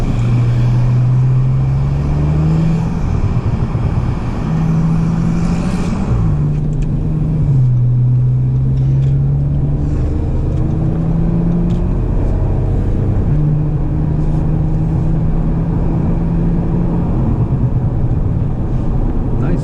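Audi RS5 Sportback engine with a tuned exhaust, a loud droning hum that rises and falls through several revs, with faint crackles between.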